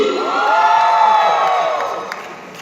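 A large crowd of graduating high school students screams and cheers loudly in one sustained roar that gradually fades toward the end.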